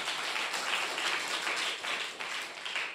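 A church congregation claps hands together in praise, a dense sustained patter of many hands with small rhythmic swells, fairly faint and without voices.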